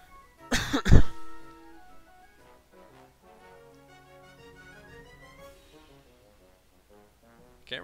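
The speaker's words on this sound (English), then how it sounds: "I think the reason I'm still coughing so much is because of the air quality lately" A person clears their throat and coughs in one loud, harsh burst near the start, followed by quiet faint tonal background sound and a small noise at the end.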